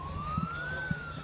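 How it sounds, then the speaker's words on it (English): Air raid siren sounding over Kyiv, a faint, distant, slowly rising wail carried through the open air with scattered low thumps beneath it. "Repeated air raid sirens interrupted rescue efforts."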